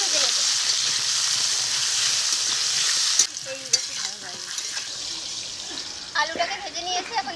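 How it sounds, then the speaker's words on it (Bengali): Potatoes with turmeric and salt frying in a pan give a loud, steady sizzle, then stirring scrapes and knocks start midway as the hiss thins out. "এখন আলুটাকে ভেজে নেব।"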